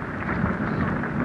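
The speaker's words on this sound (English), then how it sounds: "the rain is coming down" Rain falling at a cricket ground during a 1968 Test match, a dense, continuous hiss and patter heard steadily throughout the short stretch with no voices.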